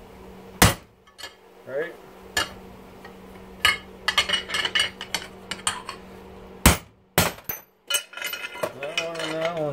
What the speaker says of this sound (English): we'll just bust that piece off